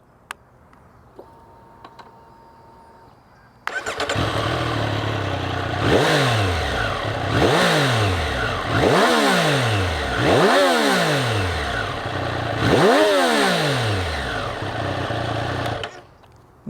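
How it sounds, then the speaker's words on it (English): A 2024 Triumph Street Triple 765 RS with its inline-three engine starts up close by, then revs hard five times in a row, each blip rising and falling back to a raspy idle between. "This is a Triumph Street Triple RS and this is how it sounds."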